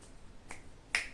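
Two short finger snaps, the second sharper and louder than the first, in an otherwise quiet room with no talking.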